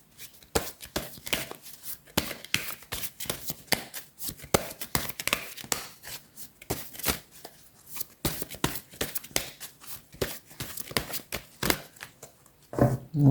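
Oracle cards being shuffled by hand, a dense run of quick papery riffles and taps that continue almost without pause, close and fairly loud, with no voices.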